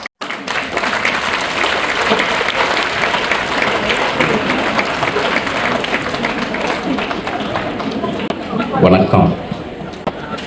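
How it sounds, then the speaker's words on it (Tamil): A hall audience gives loud, sustained applause as the president is invited to deliver his speech, dense clapping from a large crowd that swells slightly near the end. "உங்களுடைய பலமான கரகோஷத்தோடு"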